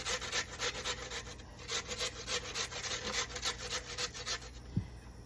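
Potatoes being grated on a grater, a quick rhythmic series of rasping strokes, close and fairly loud, ending with a brief knock.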